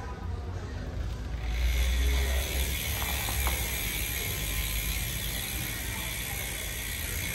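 Freehub ratchet of a Factor Ostro V.A.M. road bike wheel (Andre Greipel limited edition) clicking fast and steadily as the wheel spins, close up under a constant background hiss.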